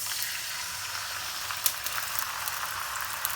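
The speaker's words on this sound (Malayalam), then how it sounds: "ഇനി നമുക്കിതിലേക്ക് പാല് ചേർത്ത് കൊടുക്കാം." Milk hits a pan of hot melted butter and dissolved sugar for banana butterscotch, producing a dense, even sizzling hiss with a few small crackles, steady and close with no talking.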